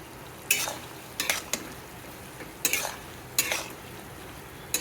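Turmeric is stirred into hot green chilli oil in a pan with the gas switched off. About five separate scraping strokes rise over a faint, quiet background, each one short and close.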